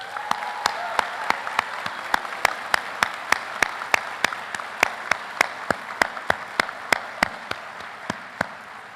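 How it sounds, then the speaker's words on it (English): An audience at a Class of 2027 white coat ceremony claps in a steady, rhythmic applause that sounds sharp and close throughout and continues without a break. "Let's give them a round of applause."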